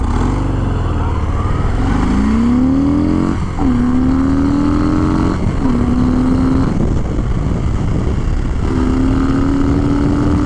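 A 2021 Harley-Davidson Fat Bob motorcycle accelerates hard from a stop, its engine note climbing through several gear shifts with brief dips between each, loud and close with steady wind noise.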